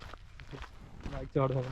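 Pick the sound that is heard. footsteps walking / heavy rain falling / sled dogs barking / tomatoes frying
footsteps walking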